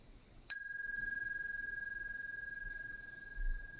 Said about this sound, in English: the facilitator may like to invite the sound of the bell to allow us to come back to this present moment